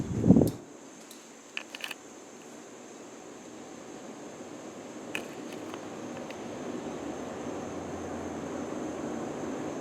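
A Casablanca Delta II ceiling fan runs on high speed, a steady broad whoosh of moving air that builds after a short thump and a few clicks at the start.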